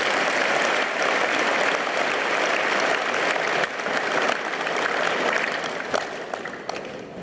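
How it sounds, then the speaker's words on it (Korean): A political rally audience applauds, sustained dense clapping from a large crowd that holds steady and then begins to thin toward the end. "박수 부탁드립니다"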